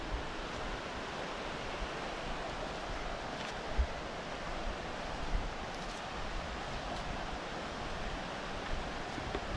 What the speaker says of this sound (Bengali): জলের কিন্তু আওয়াজ ভালোই শোনা যাচ্ছে।